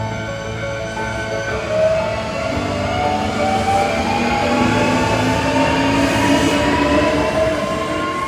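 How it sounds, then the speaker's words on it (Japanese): A Hankyu 8300 series electric train pulls away from a station among cherry blossoms, its motor whine rising steadily in pitch over a rolling rumble, loud and close with no voices. "桜の中から発車する8300系。"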